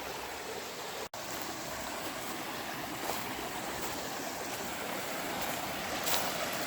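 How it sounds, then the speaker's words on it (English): A river in snowy Annalong Valley rushes steadily with a broad, constant hiss of flowing water, loud and close, with no voices and only a brief dropout early on. "I have to cross this river to get to the other side"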